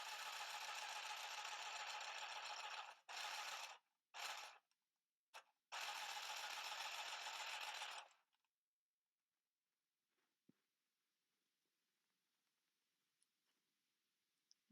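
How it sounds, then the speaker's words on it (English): A small handheld motorized sewing machine stitching fabric whirs loudly in several bursts, stopping and starting, then falls quiet apart from faint clicks. "Now you can also use the handheld sewing machine holding it vertically to your body"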